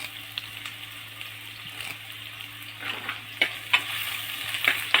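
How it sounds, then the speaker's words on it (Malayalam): Green chilies and curry leaves sauté in hot oil in a pan for a Kerala-style coconut fish curry, giving a steady close sizzle broken by a few sharp stirring clinks and scrapes toward the end. "ഞാൻ നന്നായിട്ടൊന്ന് വഴറ്റിയെടുക്കണം."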